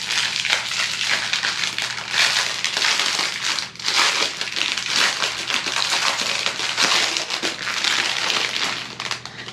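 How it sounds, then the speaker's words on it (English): Plastic bags crinkle and rustle loudly and continuously up close, with handling noise rising and falling throughout. "These plastic bags are so loud."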